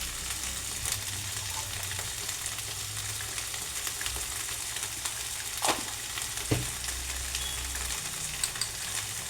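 Chicken keema and okra sizzle and fry steadily in a hot pan, a continuous crackling hiss with a couple of brief stirring scrapes near the middle, close and alone with no voices.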